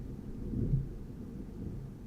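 Low thunder rolls from a nearby thunderstorm, a soft swelling rumble peaking early then fading to a steady murmur, heard faintly from indoors without any speech.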